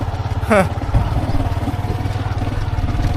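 A motorcycle engine drones steadily while it is being ridden, its low, even hum running close throughout, with a brief voice sound near the start.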